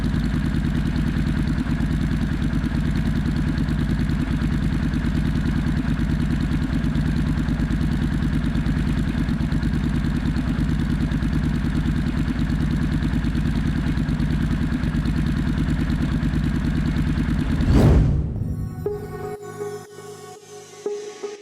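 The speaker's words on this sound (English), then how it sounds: "the soothing tunes of the Slash Cut exhaust and 1200 Triumph engine" A Triumph 1200 motorcycle engine with a Slash Cut exhaust runs steadily and loudly at idle for a long stretch, then shuts off, leaving fading ticks and clatter.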